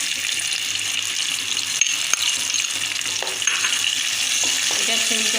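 Tomatoes hit hot, spiced oil in a pan for chickpea chole curry, raising a loud, steady, close-up sizzle that holds throughout with faint clinks of stirring.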